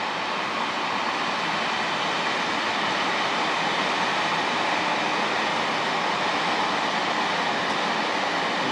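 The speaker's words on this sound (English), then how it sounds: "that's a train, if you're wondering what the noise is." A train passes near Slough, UK, under a clear night sky, giving a steady, loud broadband rumble and rush that holds evenly throughout with no voices.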